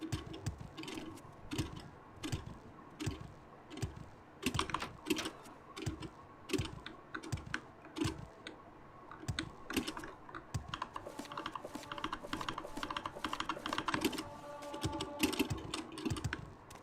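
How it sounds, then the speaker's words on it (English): Computer keyboard typing, a steady stream of close, crisp key clicks in irregular bursts with brief pauses, loud and alone. "The keyboard sounds."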